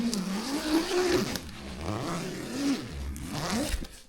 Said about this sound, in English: Very smooth zipper.